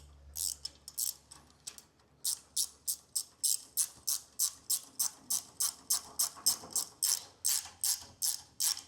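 A ratchet wrench clicks steadily as it tightens a bolt while assembling a HALO Lifts PRO series car lift, a regular run of sharp close ticks with a short pause near the start.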